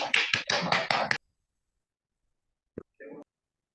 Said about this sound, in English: Then, virtual clap.